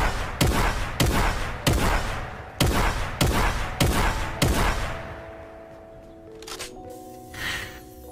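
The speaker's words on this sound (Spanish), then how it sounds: "Les voy a dejar por aquí un clip de la escopeta." Shotgun blasts from the Fortnite video game: seven loud, sharp booms fired at a steady pace, each with a short echoing tail, followed by a quieter stretch of ringing and faint game sounds.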